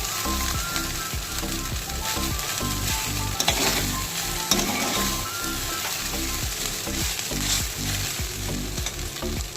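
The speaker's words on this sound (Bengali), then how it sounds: "সবজিগুলো ভেজে রেখেছিলাম সেগুলো এর মধ্যে দিয়ে দেবো। এবার আমি নাড়াচাড়া করে নেব।" Vegetables for street-style egg chicken chow mein stir-fried in a hot pan, a steady loud sizzle broken by rhythmic scraping strokes of the spatula throughout, with no talking.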